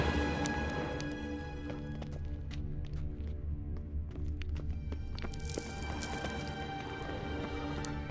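Horse hooves galloping in The Witcher 3, a steady clip-clop of hoofbeats running continuously beneath a bed of game music and ambient tones, with no talk.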